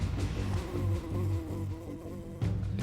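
Bees buzz indoors inside a closed-up house, a steady, close droning hum with pulsing swells in loudness and no talk.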